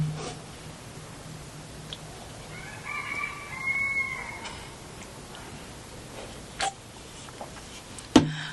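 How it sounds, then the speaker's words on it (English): Roosters crowing outdoors on a rainy day, one long crow fairly close with a few sharper calls and clucks later, alone with no talk over a steady background hiss. "the roosters are just going off."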